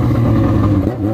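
Motorcycle engine idling steadily on a cold night, a continuous low rumble close by for about a second.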